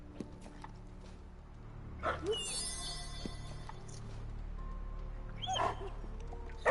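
A dog barks and yips in the Marvel's Midnight Suns video game, a few short barks over a steady game ambience with a faint voice nearby.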